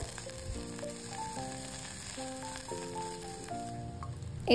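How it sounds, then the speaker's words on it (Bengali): Tomato slices fry and get stirred in oil for a Bengali katla fish curry, a quiet steady sizzle running beneath background music with soft tonal notes, ending in a louder clatter. "তো দেখো টমেটো স্লাইসগুলো দেওয়ার পরে কিন্তু খুব ভালোভাবে নাড়াচাড়া করে নিতে হবে"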